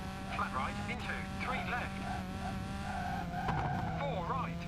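Citroen rally car in V-Rally 3 racing with a steady engine whine and tire skidding, loud and continuous, with a voice talking over it throughout.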